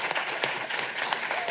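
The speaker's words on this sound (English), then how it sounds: "Can we please just give Max a round of applause?" Banquet audience gives a round of applause, a steady spread of clapping with a few sharper individual claps standing out, fairly close in a room.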